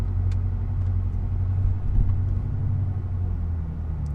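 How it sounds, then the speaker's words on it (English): A BMW engine idling after a cold start, a steady low rumble with slightly raised revs, close and continuous with no talk. "The engine is revving up a little bit higher."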